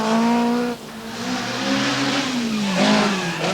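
A 1983 Rally Portugal stage, with an Opel Manta caught and passed by a Nissan: loud, close engines roar and rev with shifting pitch as the cars go by.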